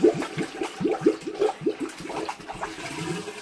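A tiny house toilet at WeeCasa in Lyons, Colorado flushes close by with a run of gurgling, bubbling pulses of water that slowly settle into a softer trickle.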